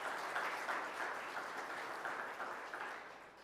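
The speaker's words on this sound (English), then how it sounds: "And we can give an applause." A congregation at a Mennonite church annual general meeting claps together in a moderate, fairly distant round of applause that fades gradually over a few seconds.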